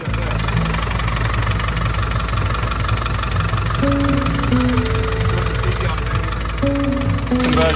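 A 1985 car fitted with a 1991 engine runs steadily with a loud, constant mechanical drone, and tonal sounds appear partway through.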